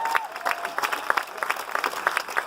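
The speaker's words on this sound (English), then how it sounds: "Big round of applause once again for all of our first responders." Audience aboard the Carnival Dream clapping for police officers at a veterans ceremony, a short burst of lively, moderately close applause with individual claps standing out.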